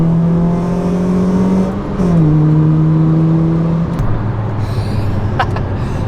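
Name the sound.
car engine revving while driving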